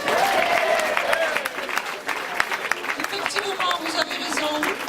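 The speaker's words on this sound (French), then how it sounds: "C'est eux qu'il faut applaudir ce soir." Audience applause at a club's 30th anniversary celebration, sustained dense clapping from a crowd filling the whole stretch, with voices and cheers mixed in.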